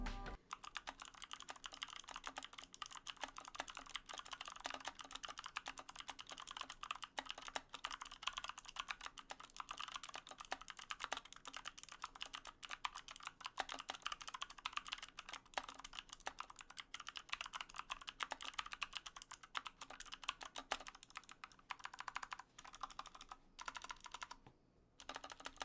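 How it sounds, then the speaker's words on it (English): Rapid, steady typing on an Alpherior Keys Hayabusa 60% wireless keyboard with clicky switches, dense crisp clicks rattling along close up for the whole stretch, with no voices. "because I am reviewing the clicky variant of this keyboard, you won't notice the rattle as much"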